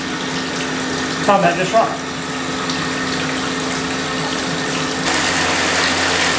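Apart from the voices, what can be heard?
automatic bilge pump pumping water out of a tub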